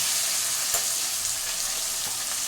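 Onions sizzling in hot oil with fennel seeds and curry leaves, a steady close hiss with faint stirring clicks, heard alone without talk.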